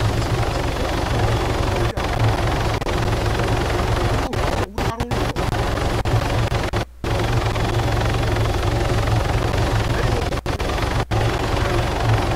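A military helicopter in the Arma 3 video game drones with a loud, steady rotor and engine roar for the whole stretch, broken only by a few brief dropouts.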